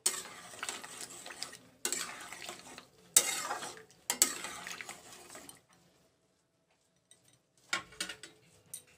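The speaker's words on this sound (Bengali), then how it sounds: "মিশিয়ে দিলাম ভালো করে।" Bengali lau dal ingredients (beans, tomato, peas, green chillies) are stirred in a pan with a metal spoon. Several scraping, clinking bursts come close by, then a quiet pause and a final short stir.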